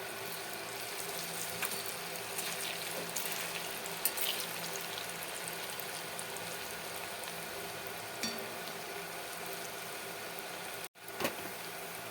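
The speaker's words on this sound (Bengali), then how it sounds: "এই তেলে আমি এই চষিগুলোকে সব ভেজে নেব।" Chushi, small pieces of dough, fry in oil in a kadai, giving a steady, even sizzle throughout with a faint clatter near the end.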